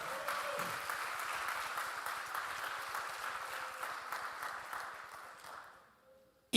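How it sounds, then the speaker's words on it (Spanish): A church congregation applauding the Lord, dense rapid clapping from many hands filling the room at a steady level, then tapering off and fading near the end. "dale el aplauso al Señor."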